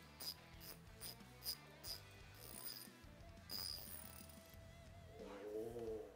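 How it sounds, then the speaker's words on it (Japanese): A 72-tooth ratchet from a Nissan R34 trunk tool set clicks in quick bursts of sharp metallic pawl ticks, close and clear, with short pauses between strokes. "このラチェット"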